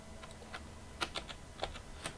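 Computer keyboard keys clack in a handful of quick, irregular taps, faint and slightly distant, over a low steady room hum with no talking.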